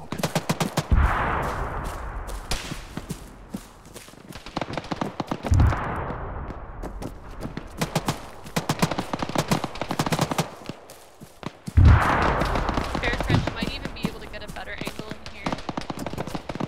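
Heavy machine gun fire in a military video game, rapid bursts of sharp shots with booming impacts recurring in waves, players talking over the gunfire.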